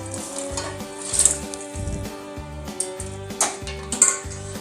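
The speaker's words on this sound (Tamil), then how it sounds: "கொஞ்சம் கிண்டிட்டு தீ ஆஃப் பண்ணிடுவோம்" Spoon stirring sugar syrup in a pan on the stove for milk buns, with repeated scraping strokes and a few light metallic taps over a soft sizzle and steady hum.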